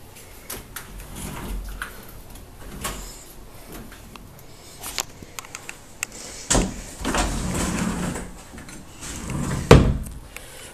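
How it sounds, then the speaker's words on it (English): Sticking sliding closet doors in a spare bedroom are pushed open and shut, giving scattered rumbling slides and a few sharp knocks and bumps, with the loudest thud near the end, in a quiet empty room. "Doors on the closet stick just a little bit."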